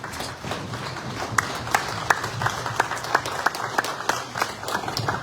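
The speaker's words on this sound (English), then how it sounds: "Another round of applause." Applause for the Inspector General of Police at a police strategic managers' conference: a steady round of clapping from a crowd, with sharp individual claps standing out, held at a moderate distance for several seconds.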